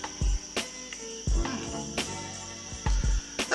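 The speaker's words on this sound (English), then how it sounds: "And we hear crickets." Crickets chirping in a quiet background, a thin steady high-pitched trill running throughout, broken by several dull low thumps and clicks.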